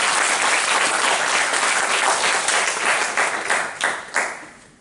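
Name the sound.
congregation applauding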